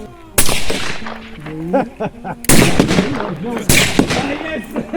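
Heavy PTRS-41 anti-tank rifle firing 14.5x114mm rounds at a shooting range: three loud, sharp blasts spaced about a second apart, each with a booming tail, with voices talking between the shots.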